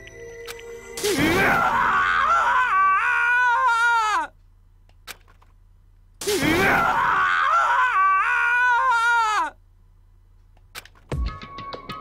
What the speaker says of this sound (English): Ishimaru's bitter screams echoed through the courtroom, each wail a painful reminder of that truth.